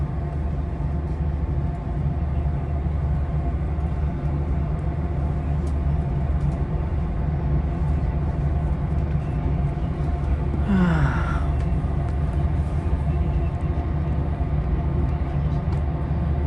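Westbound Capitol Corridor train #543 departing Santa Clara Great America Station, a steady low rumble and hum of the moving railcar heard from inside, with a brief rising squeal or whine near the middle.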